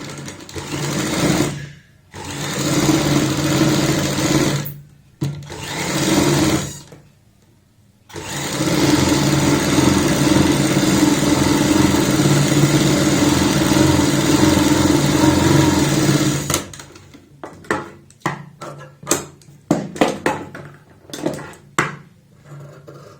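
A sewing machine stitches a curved line around a kurti neckline in loud bursts of steady motor hum, several runs separated by short silences, then fades into stop-start handling clicks.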